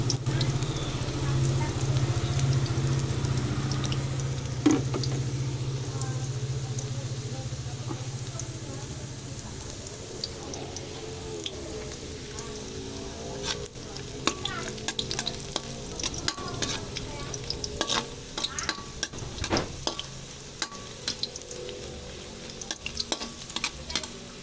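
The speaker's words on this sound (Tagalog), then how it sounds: "Luto ulit hanggang sa mag brown." Garlic is stirred and fried in a pan until browned, a steady close sizzle with scraping strokes of a spoon and faint clinks running under it throughout, no voice in the clip.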